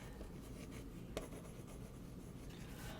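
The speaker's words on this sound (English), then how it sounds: "grab my eraser. Let's get rid of this other line." A pencil eraser rubs out a line on paper in a quiet, steady, close-up scrubbing, with one brief sharp tap partway through.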